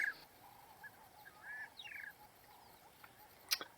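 Superb starling calling in a garden at Ol Pejeta in Kenya: a few faint, scattered whistled notes and short chirps at a distance over a quiet outdoor background.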